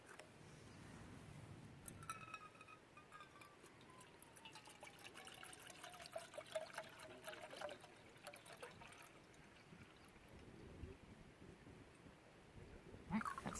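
Water poured from a bottle into a camping stove pot on a trail hike outdoors, a faint, steady trickle lasting several seconds against quiet background ambience.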